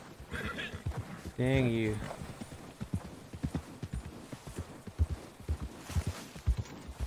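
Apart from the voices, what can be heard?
horse whinnying and hooves in the video game Red Dead Redemption 2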